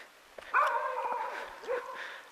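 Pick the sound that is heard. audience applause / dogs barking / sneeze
dogs barking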